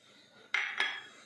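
Dry fruits tipped into a bowl of melted chocolate, with two sharp, close clinks of a utensil against the bowl over a quiet background, no voices.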